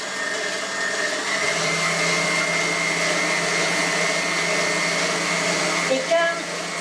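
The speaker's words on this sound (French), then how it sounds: "Et là, au batteur, je laisse le fouet, voyez." A stand mixer with a whisk attachment beats liquid ingredients and sugar for brioche dough, giving a steady, loud motor whir that runs throughout with little change and a brief bump near the end.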